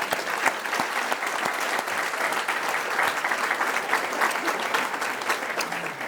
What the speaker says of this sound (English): Let's please have a round of applause for all of our sponsors.